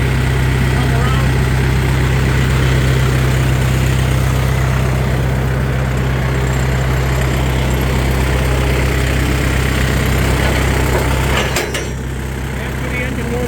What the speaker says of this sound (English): After the engine warms up a little bit, at idle, only at idle